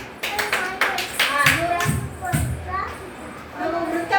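Children clapping during a classroom shape-and-movement activity, a few sharp bursts of claps close by, mixed with children's voices and chatter.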